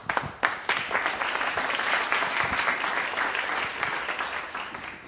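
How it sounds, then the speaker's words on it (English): Warm applause from an audience, a full sustained round of clapping that starts abruptly and carries on steadily for several seconds. "Let's give him a warm round of applause"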